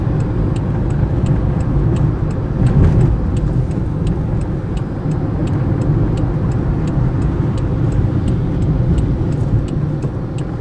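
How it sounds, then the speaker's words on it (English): Dense morning freeway traffic with every lane full, cars passing in a continuous broadband roar heard from inside a moving vehicle, with faint regular ticking throughout. "All lanes full of traffic."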